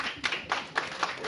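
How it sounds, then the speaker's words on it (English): A crowded council meeting room fills with applause, a dense run of hand claps swelling in uneven waves and echoing around the hall. "Applause echoed through the crowded room at a Lawrenceville council meeting"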